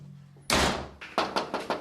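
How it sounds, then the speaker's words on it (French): A door slammed shut violently, one loud crashing bang followed by a series of rattling thuds as it settles, close and sharp. "le propriétaire nous a violemment claqué la porte au nez"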